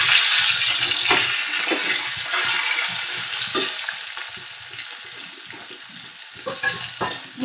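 Pieces of rohu fish coated in salt and turmeric frying in hot oil over a medium flame, a loud continuous sizzle with occasional stirring clinks and spatters.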